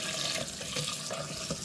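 Water runs steadily from a kitchen tap while crab meat and other seafood are rinsed for a pasta salad, a close continuous splashing rush with no speech.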